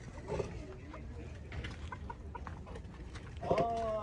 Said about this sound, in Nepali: यहाँ कुखुरा हो कुखुरा